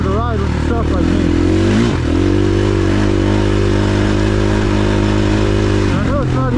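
Dirt bike engine droning loudly and steadily while riding at Dove Springs, pitch rising and dipping as the throttle changes, close and dominant, with a rider's raised voice partly buried under it.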